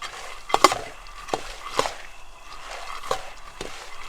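Peanuts being toasted in a pan are stirred constantly, giving soft scraping and patters of nuts shifting, with a few sharper knocks standing out against a quiet background.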